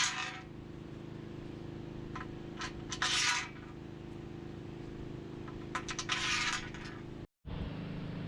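Small bolts slide into the running board mount on a Ram ProMaster campervan during an iBoard install, with light metallic scrapes and clinks in short bursts over a steady background hum.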